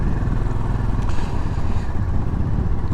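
A 2020 Royal Enfield 500 Trials motorcycle is ridden through villages, its single-cylinder engine a steady, loud, continuous thump with wind rumble and no break across the whole stretch.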